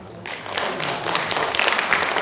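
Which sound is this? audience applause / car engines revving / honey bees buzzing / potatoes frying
audience applause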